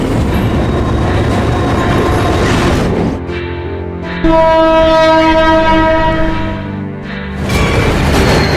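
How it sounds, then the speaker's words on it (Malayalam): A train at Tharamani railway station, heard as a loud continuous rumble with broad noise, then steady ringing tonal wheel or brake squeal partway through, close and alone without talk. "Railway station, തരമണി."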